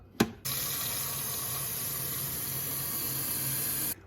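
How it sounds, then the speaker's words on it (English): Tap water pours steadily into the removable reservoir of a Keurig coffee machine, a continuous close hiss and splash that starts abruptly after a brief knock and runs for about three and a half seconds before cutting off. "we need to fill up our reservoir all the way up to the max line with some water."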